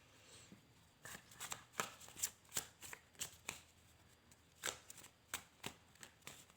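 Rider-Waite tarot cards are shuffled in a steady run of crisp riffling bursts, close and fairly quiet, with a brief pause partway through before the rhythm resumes.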